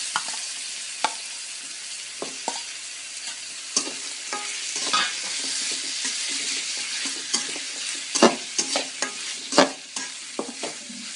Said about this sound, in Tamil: இப்போ அரிஞ்சு கழுவி வச்சிருக்கிற கறி உள்ள சேர்த்துக்கலாம்.